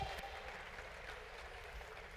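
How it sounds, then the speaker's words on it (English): Audience applause after a session at a live event, a steady unbroken patter of many hands clapping at moderate distance, fairly quiet and sustained throughout. "Please, a round of applause."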